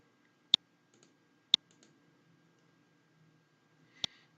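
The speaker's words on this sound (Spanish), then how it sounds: "Vamos a darle clic derecho y" Three sharp, crisp clicks from a computer mouse, spaced about a second apart and then a longer gap, close and clear against a quiet background.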